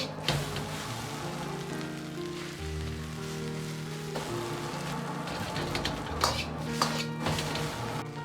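Eggs and chili peppers stir-fried in a wok over medium heat, a steady sizzle with scraping and clinking of the spatula against the pan, close and continuous, no voices.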